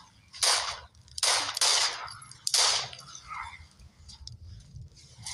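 Three sharp gunshot bursts go off in quick succession near an ancient pyramid, loud and close, and a quieter low rumble continues underneath.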